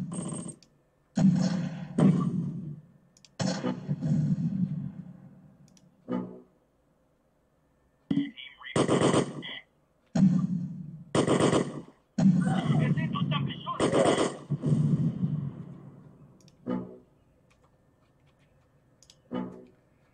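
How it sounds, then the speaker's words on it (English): Gunfire and mortar fire from the Close Combat war video game come in bursts of heavy, booming impacts separated by silent gaps, with radio-style voice callouts between them. "We're under heavy fire."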